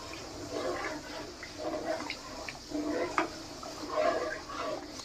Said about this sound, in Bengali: পায়েসের চালটা আমি এখন ভালো করে ধুয়ে নেব